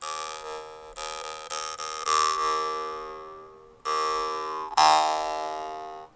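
A jaw harp, a mouth instrument with a vibrating middle reed, twanging in several plucked notes, each a bright buzzing drone that rings and fades, with the tone shifting as the mouth shape changes.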